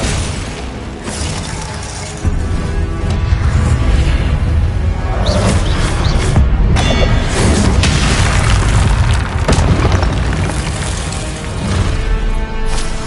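Confringo spell blasts in the video game Hogwarts Legacy, played on PS5, form a loud, dense stretch of booming explosions, shattering crashes and whooshing magic effects that keep going without a break.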